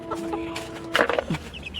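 Chickens cluck near their coop in a rural Bangladeshi yard, a few short, close clucks rising near the end over quiet background.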